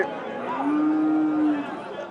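At a busy Eid cattle market where small, lean cows are being sold, a cow gives one long, low moo amid a steady crowd murmur, with people talking nearby.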